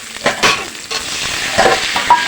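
Onions fry with black cumin and tomato in a pan, giving a loud, close sizzle broken by repeated scraping and stirring strokes.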